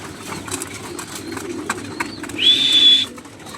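Racing pigeons coo softly in a loft amid faint rustling and background hum, followed by a louder, sustained high tone near the end.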